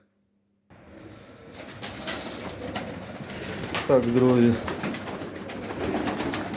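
Pigeons cooing outdoors, a short, clear burst of low rolling coos near the middle, mixed with bird chatter and ambient noise, while someone talks at the start.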